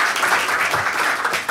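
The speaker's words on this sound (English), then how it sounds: "Give him an applause." A conference audience applauds a speaker's entrance, a dense wash of clapping that stays even and fairly loud over a short stretch.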